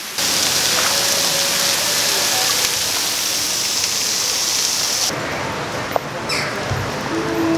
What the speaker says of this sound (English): it's super bright out, but it's also raining on us